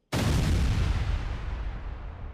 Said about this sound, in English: Grenades are launched into the tree line.